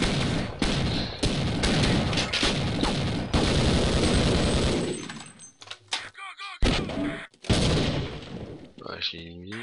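A turret fires in Half-Life, loud rapid gunfire bursts with booming impacts for several seconds, then scattered shots and effects with a person speaking in between.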